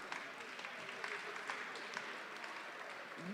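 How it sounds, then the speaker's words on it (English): Faint, distant audience applause at a Jamaica 60th anniversary launch event in Canada, a steady soft patter of many hands throughout. "Give us a round of applause."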